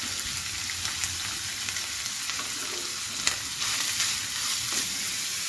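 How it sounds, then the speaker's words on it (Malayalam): Steady crackling sizzle of ginger frying in hot oil, with occasional stirring clicks, no voices. "എണ്ണ ചൂടായി നമുക്ക് ഇഞ്ചി വറുത്തെടുക്കാം"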